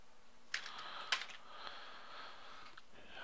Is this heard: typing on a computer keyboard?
yes